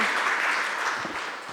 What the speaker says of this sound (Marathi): पुन्हा एकदा आपण जोरात टाळ्या वाजून मॅडमला धन्यवाद देऊया